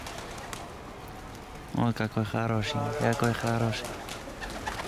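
Armenian fighting pigeons coo in a series of low, rhythmic throaty calls close by, with a person speaking softly and admiringly over the birds.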